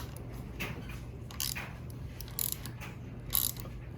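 A ratchet with a 1/4 inch Allen drive loosens the top handlebar clamp on a Harley-Davidson Low Rider S, giving a few close, crisp ratcheting clicks in short bursts over a low steady hum.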